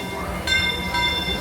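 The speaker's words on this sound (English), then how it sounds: "there's the train." Disneyland Railroad train pulling into the station at the park, a steady rumbling roar with a bright whistle-like tone rising over crowd noise and nearby chatter.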